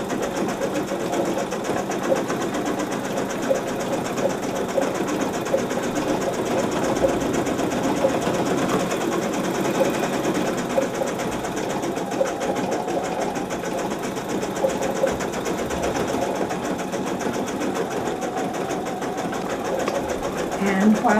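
Domestic sewing machine running steadily through an embroidery pattern for a quilting appliqué, a continuous close whirring motor hum with rapid needle clatter that holds unbroken at even loudness throughout.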